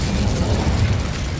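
A fiery Incendio spell cast in the video game Hogwarts Legacy, a steady low rumbling whoosh of flame that holds loud and even for about a second and a half.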